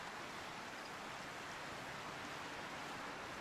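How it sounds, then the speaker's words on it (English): A waterfall in the Final Fantasy XIII video game gives off a steady, even rush of falling water, soft and continuous with no other sounds on top. "Get a nice little waterfall."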